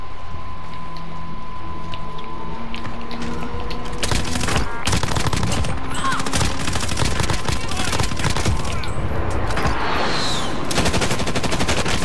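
Rapid video game gunfire crackles almost nonstop, dense automatic bursts and overlapping shots close up and loud across the whole stretch.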